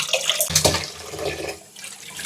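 Water from a tap runs steadily while hilsa fish is washed, and a few splashy surges and clatters rise out of the constant rushing flow.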